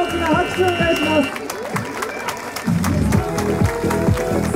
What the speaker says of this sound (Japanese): もう一度二人に大きな拍手をお願いします